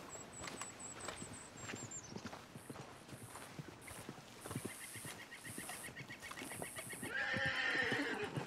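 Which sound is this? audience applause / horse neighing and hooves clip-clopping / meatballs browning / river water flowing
horse neighing and hooves clip-clopping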